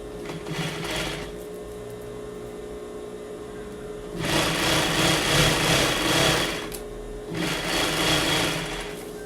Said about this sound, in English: first we need to sew the side of the front.